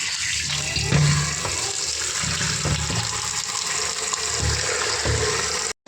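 Water from a motor pump runs steadily into a cooking pot being filled for arhar dal in a village kitchen, a continuous close splashing flow with no talk.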